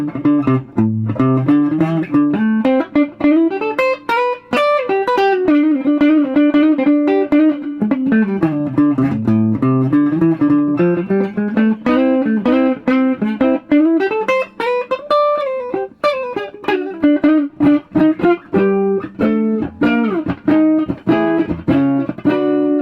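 A 1990s Tanglewood Joe Triggs jazz guitar plays a continuous run of single notes and chords, with the volume nearly full and the tone rolled off slightly, clean and close with no talking.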